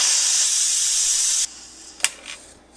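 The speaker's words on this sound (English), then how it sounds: "Now I can release the pressure." An Instant Pot releases pressure after cooking brownies: a loud, steady steam hiss runs for about a second and a half, then cuts off, followed by a quiet hush, one sharp click and a faint rattle.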